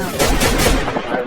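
A loud, booming sniper rifle shot lands a headshot in a video game, one dense burst of gunfire filling the short moment with a rolling tail.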